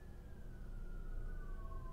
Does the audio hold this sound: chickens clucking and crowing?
no